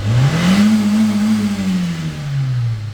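A Nissan Sunny engine revs up and holds at a raised pitch, then eases back down in one smooth, loud, close swell with no talk.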